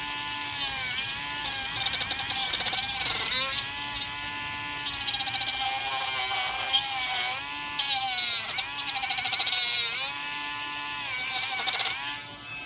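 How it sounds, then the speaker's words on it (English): Small Dremel rotary tool fitted with a little grinding wheel, worked with a light touch to flatten a surface: a steady high-pitched whine and buzz that wavers in pitch as the wheel meets and leaves the material, continuous and close throughout. "That's where these little grinding wheels come in real handy on the Dremel"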